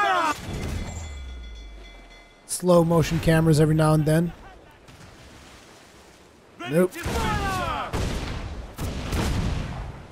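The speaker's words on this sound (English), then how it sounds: "let's fire the front cannons then" Ship cannons fire in the pirate game Assassin's Creed 4: Black Flag, heard as a few rough booming bursts and rumbling blasts late on, with someone talking between them.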